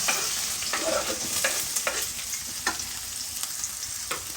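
Finely chopped onions frying in a pan, a loud continuous sizzle close by with repeated quick scrapes and clinks of a spatula stirring them.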